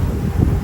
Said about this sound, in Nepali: हावा बाहिर यस्तो है